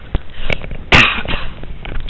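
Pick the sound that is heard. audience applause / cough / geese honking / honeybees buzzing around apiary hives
cough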